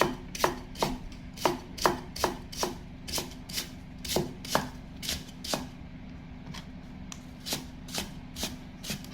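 A knife chopping fingerroot (krachai) on a board, about twenty sharp, crisp cuts in a fairly regular rhythm, close and distinct, briefly pausing midway before resuming.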